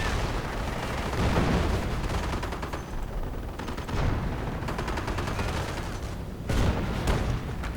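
Artillery fire in a Men of War real-time strategy match: repeated heavy booms and crackling gunfire bursts over a continuous battle din, loud and dense throughout.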